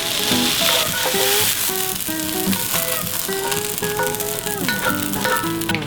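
Vegetables for steak fajitas sizzle steadily in a hot pan, a continuous bright frying hiss with background music running underneath.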